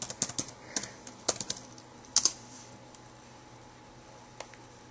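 Keystrokes on a computer keyboard as an address is typed into a web browser, a quick irregular run of close, crisp clicks that gives way to a few sparse taps and then quiet.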